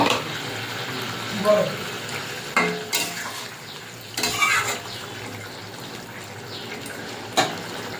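Fried skate fish going into a pan of boiling curry broth: a faint, steady bubbling simmer broken by a few brief splashes and stirring clatters spread through the clip.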